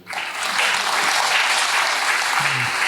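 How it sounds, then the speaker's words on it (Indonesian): Audience at a poverty-alleviation seminar in Central Java applauding a regent, a short burst of dense clapping that swells quickly and holds steady and loud. "Tepuk tangan untuk beliau."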